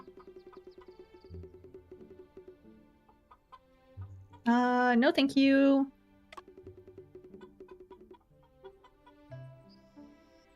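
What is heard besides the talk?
free-range chickens clucking in a video game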